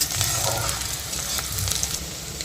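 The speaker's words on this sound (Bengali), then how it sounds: "ক্যাপসিকামটা দিয়ে দেওয়া হচ্ছে কাঁচা লঙ্কা একটু ভেজে নেওয়া হবে এগুলোকে একসাথে" Capsicum and green chillies fry together in a pan for aloo bhuna, giving a steady close sizzle with soft stirring scrapes throughout, no voices.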